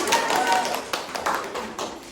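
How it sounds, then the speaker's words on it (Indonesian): Students in an economics micro-teaching class applaud, a brisk spatter of claps from a small group nearby, mixed with voices talking over it. "tepuk tangan buat kita semua"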